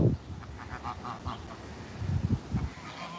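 A group of geese honk in short bursts, moderately close, with outdoor background noise between calls.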